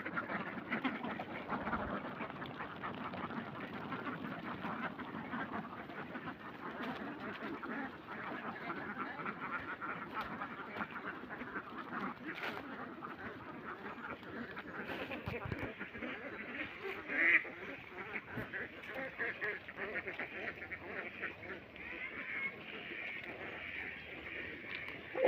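A flock of ducks quacking and honking steadily at moderate distance on a duck-rearing homestead, continuous calls under a voice speaking now and then.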